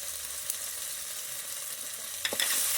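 Ground cumin, chili and turmeric fry with a steady, soft sizzle in a pan with fried snakehead fish for a Bengali shol macher rosa, with a few brief stirring scrapes near the end.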